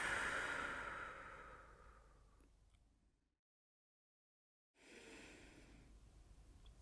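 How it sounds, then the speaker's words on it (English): A slow, deep breath during a restorative stretching routine, a soft airy inhale fading into a long exhale, then silence before quiet breathing resumes, heard close with no talking. "take 2 deep breaths now, breathing in the belly, and exhale through the mouth"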